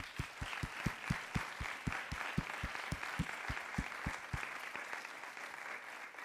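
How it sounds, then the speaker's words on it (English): An audience at a closing plenary for a creative skills week applauds, a fairly soft, continuous patter of many hands with a few sharper, regular claps standing out, then fading near the end. "So I'd like you to do a round of applause for yourselves by way of thanks from us."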